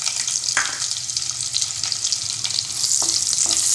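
Onions frying in a pan for coconut milk rice, a close crackling sizzle with light stirring clicks and a brief splash of water, continuing steadily with no talk.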